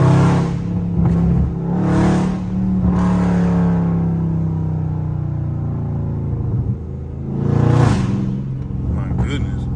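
Tuned Stage 2 Dodge Charger Scat Pack pulling hard from inside the cabin, a loud deep engine roar rising through the gears with brief surges, while a voice speaks over it.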